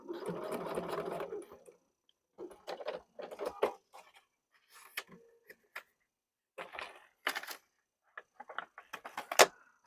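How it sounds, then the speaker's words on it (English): Sewing machine stitching pieces of fabric together for an appliqué apple, running in several short bursts of varying length separated by pauses, close and clear with no talking. "And we're going to go ahead and sew it."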